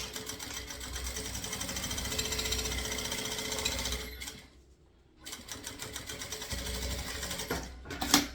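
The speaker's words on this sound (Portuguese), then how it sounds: "E aqui a gente vai fazer retrocesso começo e final, costura simples." A sewing machine runs continuously, stitching synthetic fabric for an insulated bottle-holder bag with a simple straight seam and backstitching, a steady close rhythmic whirr that briefly stops before resuming.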